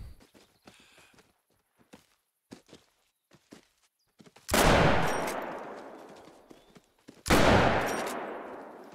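In theHunter: Call of the Wild, a lever-action 45-70 rifle fires two loud, sharp shots a few seconds apart, each ringing into a long decaying echo, after soft footsteps and small clicks.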